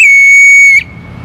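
A whistle blown once during a device test: a loud, steady, shrill tone held for just under a second, then cut off abruptly, leaving quiet background.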